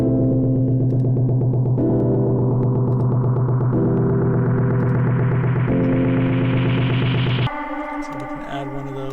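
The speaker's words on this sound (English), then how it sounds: "We're going to filter the snares and automate them" Filtered snare hits repeat in a steady house groove over a loud piano chord bed, their tone slowly opening and brightening across the bar before the pattern shifts near the end, no voices.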